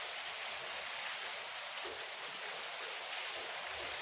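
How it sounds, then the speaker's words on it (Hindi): Heavy rain pours down on a village as a dense, steady hiss with no break, fairly faint and even throughout. "भाई, बहुत ज़्यादा बारिश हो रही है।"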